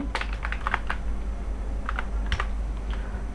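A username being typed on a computer keyboard, with light clicking keystrokes arriving in short quick bursts separated by pauses, close but soft, over a faint background hum with no talking.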